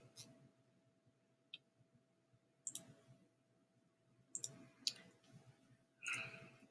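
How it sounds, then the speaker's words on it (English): A computer mouse clicks on a reply button, giving a few faint, sparse clicks in a quiet room. "I'm going to click on reply."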